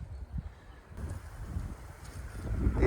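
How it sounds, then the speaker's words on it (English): Wind blows outdoors on a cloudy, windy day, moving through trees; it makes a steady, gusty rumble on the microphone that swells slightly toward the end, with no voices. "It's kind of windy. I don't know if you can see that in the trees or not, but it's kind of windy today."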